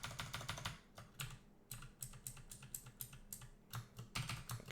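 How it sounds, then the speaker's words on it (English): Fast, uneven typing on a computer keyboard during a Dungeon Crawl Stone Soup game, close and crisp clusters of key clicks with short pauses between bursts. "I gotta stop fat fingering the keyboard."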